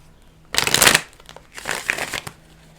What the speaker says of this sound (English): I'm shuffling off the desk because it is loud.